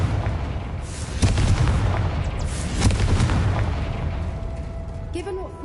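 A Confringo blasting spell from Hogwarts Legacy detonates in a heavy, booming explosion with a couple of strong concussive hits that fade into a rumble, while a voice speaks over it.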